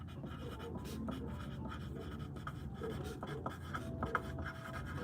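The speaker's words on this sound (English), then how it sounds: "Sorry, I'm writing this down." Pen or pencil writing on paper, a soft continuous scratching and rubbing held close and quiet throughout, with no talking.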